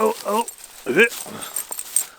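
A six-month-old pit bull mix puppy lets out several high, wavering whimpers and whines, close by, mixed with a person talking.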